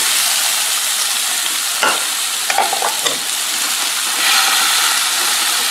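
Onions sizzle on the cooking surface of a Ninja Foodi Smart XL Grill, a steady close hiss with brief scraping stirs in the middle.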